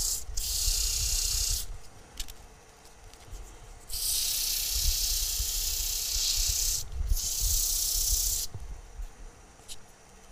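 Abrasive sanding against a turned ambrosia maple bowl in long scratchy bursts, separated by brief pauses, close up and fairly loud with no talking.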